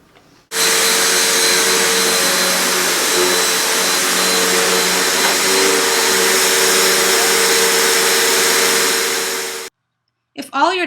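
A vacuum cleaner runs loud and close for about nine seconds, a steady whining drone that cuts off abruptly, followed by a short voice near the end.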